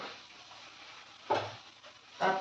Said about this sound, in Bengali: এখন এটা ভালো করে ভাজা হোক